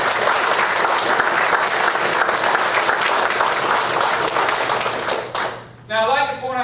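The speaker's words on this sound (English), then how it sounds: "a round of applause?" A town hall audience gives a sustained round of applause for law enforcement, dense clapping filling the room for about five seconds before tapering off into quieter scattered claps.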